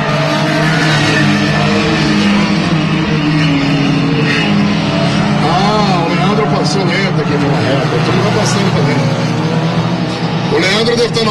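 Race cars roar past on a track during a touring car race, engines loud and continuous, with revving and passing swells, while a commentator talks excitedly over the whole stretch.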